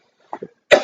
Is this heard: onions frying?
no